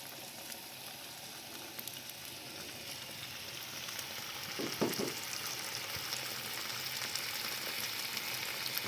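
Bacon frying in a pan for a bacon and mushroom baguette, a steady faint sizzle throughout with a brief louder crackle near the middle.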